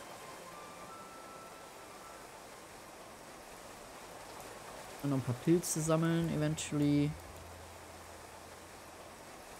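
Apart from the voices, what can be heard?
rain falling in the video game Clanfolk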